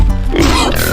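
A pig grunts loudly in a dinosaur survival video game, a rough snorting burst filling the short moment with no speech over it.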